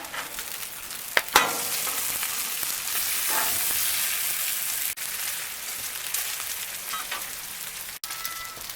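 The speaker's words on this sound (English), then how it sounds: "And I'm going to give the bacon a flip." Bacon and chicken fry in clarified butter on a Blackstone griddle, giving a steady, close, loud sizzle throughout, broken by a few sharp clicks and spatula scrapes.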